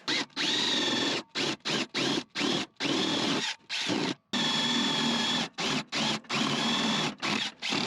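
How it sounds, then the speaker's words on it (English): A power drill whirs in repeated short bursts with quick pauses between, drilling holes in a wine barrel, its motor pitch rising as each run spins up, close and fairly loud. "So we're going to do some drilling, and we'll show you kind of what that looks like."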